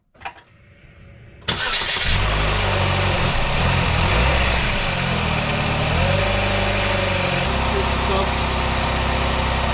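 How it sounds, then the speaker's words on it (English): Car engine cranking and catching after a quiet start, then settling into a steady, loud idle that shifts slightly in tone midway, tested after an oil seal repair. "we're ready to start the car to see if we got any leaks"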